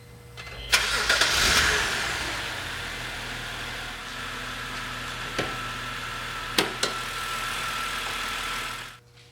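A 2006 BMW Z4 3.0si's 3-liter inline-six cranks and catches with a sharp start, then settles into a steady idle, punctuated by a few brief clicks and knocks nearby.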